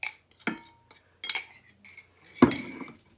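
A spoon stirs toasted pecans into thickened cranberry sauce in a pot, giving a few scattered, close clinks and scrapes of metal against the pot in short irregular bursts.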